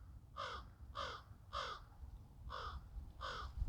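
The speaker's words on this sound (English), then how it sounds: "Beautiful crow." A crow caws from a treetop in a forest: five harsh, evenly spaced calls, each with a short double note, ring out clearly over a low, steady rumble of wind.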